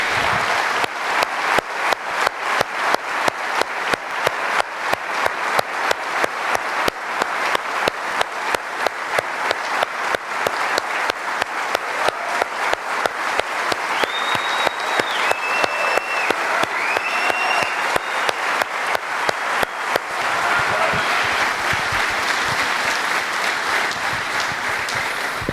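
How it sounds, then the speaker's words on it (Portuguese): A church congregation applauds steadily for about twenty seconds, a dense wash of clapping with faint musical tones riding above it, before the clapping thins into a softer, more diffuse crowd sound near the end. "Dê um aplauso ao Senhor"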